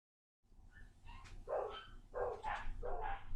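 Dogs barking, a few close, fairly loud barks in a quick run after a brief moment of silence.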